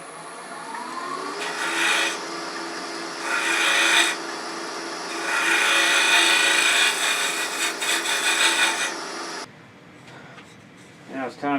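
Tool scraping against a spinning walnut box on a wood lathe comes in several loud rasping bursts of a second or two each, then falls to a quieter, sparse scratching at the end.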